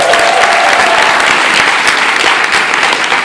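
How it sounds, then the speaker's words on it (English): A training-event crowd gives a loud, dense round of applause, steady and close throughout, with no one speaking over it. "Give Jolene a big round of applause, by the way."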